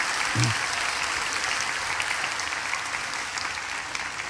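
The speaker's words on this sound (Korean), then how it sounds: "우리 미래준비팀 교육자들에게 감사의 박수 드리겠습니다" Church congregation clapping in thanks during a Sunday service, a broad, continuous patter of many hands at a steady moderate loudness, with a brief low thump near the start.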